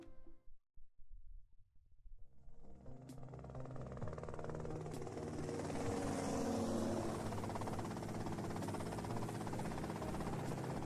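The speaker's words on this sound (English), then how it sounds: "that's them in the chopper" Helicopter in the video game GTA Vice City: after a few scattered clunks, a steady rotor and engine drone rises and holds loud and continuous for the rest of the clip.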